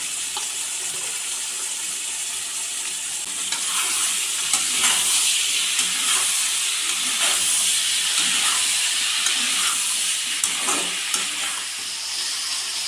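Brinjal pieces sauté in a hot pan for a gothsu side dish, with a loud, steady sizzle and hiss close by and intermittent scraping clicks from stirring.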